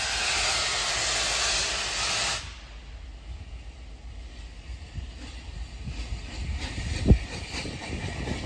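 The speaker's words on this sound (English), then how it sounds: "Good old steam, you can't beat it." A steam locomotive at Carlisle station releases a loud, close hiss of steam for about two seconds, then cuts off, leaving quieter station ambience with a soft mechanical clank.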